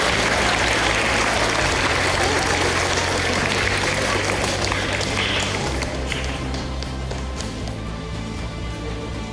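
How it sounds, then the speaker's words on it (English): Applause from a school awards ceremony crowd for prize winners, loud continuous clapping from many hands that holds for about nine seconds with background music underneath. "A round of applause, if you don't mind, for the prize winners of"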